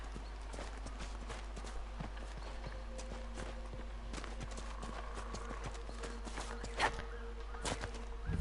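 Horse hooves clip-clop steadily at a walking pace in Dragon Age Inquisition, a fantasy video game, with a soft rhythmic patter over a constant low game-world hum and a brief louder knock near the end.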